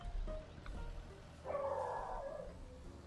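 Dogs on a farm in the Farming Simulator 19 video game bark and whimper in short yips, with a longer whining cry in the middle, over steady game background noise.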